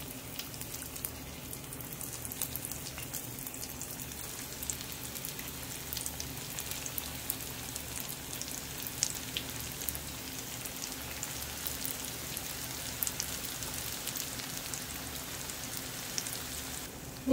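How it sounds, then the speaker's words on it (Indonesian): Potato balls frying in hot oil, a steady, quiet sizzling crackle that runs throughout with no talking. "Setelah minyaknya panas, sekarang kita goreng bola-bola kentang."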